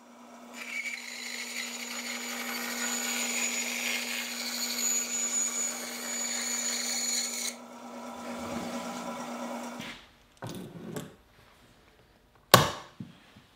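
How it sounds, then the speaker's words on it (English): A bandsaw makes a rough cut through a cherry wood table top, a loud steady whine with a low hum running for about seven seconds, then the blade spins down into a few brief bumps and a sharp clatter near the end. "now I can trace the pattern and make this rough cut on the bandsaw"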